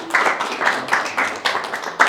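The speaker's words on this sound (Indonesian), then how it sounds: "tepuk tangan buat Pak Budi." A small group at an indoor talk claps in a few irregular bursts, moderately close, with no talking over it.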